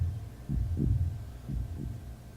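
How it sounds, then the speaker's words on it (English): Loud heartbeats thud in The Last Door, a dark point-and-click horror game, as two heavy double-beat pulses about a second apart, low and throbbing over a faint hum. "And have super loud heartbeats."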